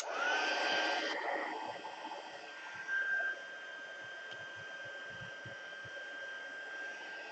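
A heat embossing tool blows hot air to melt white embossing powder on a watercolor paper piece: a steady, close whirring hiss with a thin whine, louder for the first seconds, then running evenly.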